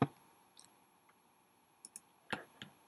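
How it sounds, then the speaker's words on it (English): A computer mouse clicking to delete a blog entry: a few sharp, quiet, close clicks spaced irregularly in a near-silent room, with a quick double pair near the end. "you can click on delete"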